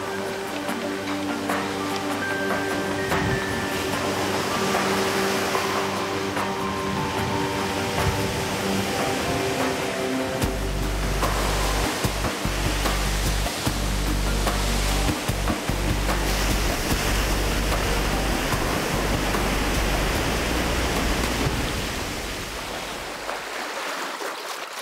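Cold coastal ocean surf breaking and rushing ashore, a loud, continuous roar of waves close by with deep rumbling surges and hissing wash, no voices.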